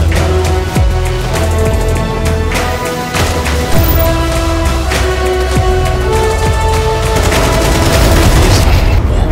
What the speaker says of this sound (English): Oh, bang headshot from the other side.